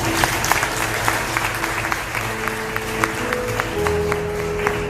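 A crowd claps steadily throughout, a dense, continuous patter of applause with no pauses.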